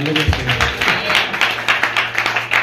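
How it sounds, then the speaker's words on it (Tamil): Congregation at a Christian testimony gathering clapping hands in a steady rhythmic beat, loud and close, with a low sustained tone underneath. "தொடர்ந்து கைத்தட்டி சொல்லுங்க"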